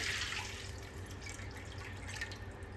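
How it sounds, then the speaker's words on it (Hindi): Water poured into a hot pan holding oil and cumin on a low gas flame, giving a steady splashing, dripping hiss that runs throughout with no voices. "इसके अंदर हमें ये 4 कप पानी डाल देना है।"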